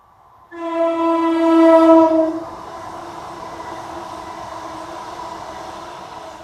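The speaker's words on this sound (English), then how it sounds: "We've got another train coming." A train sounds a loud, sustained multi-tone horn for about two seconds, then a steady rumbling roar of the passing cars carries on underneath to the end, with no talking.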